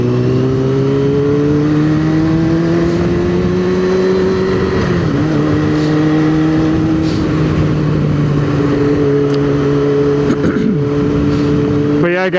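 A Gen 1 Yamaha R6 motorcycle engine runs in hot weather, a loud steady drone with strong harmonics and slight pitch dips and wavers, continuous and close throughout.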